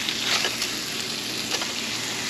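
Redfish fillet sizzling in a frying pan just after flipping, a steady close hiss of frying with a few faint pops and clatters.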